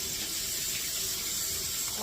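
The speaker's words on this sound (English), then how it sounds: "I'm gonna just rinse them off one more time" Potatoes are rinsed under a kitchen tap, with water running in a steady, even hiss the whole time, moderately loud and close.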